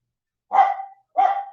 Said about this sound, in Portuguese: E eu tenho uma cachorra muito vocal aqui. Espero que ela pare em breve.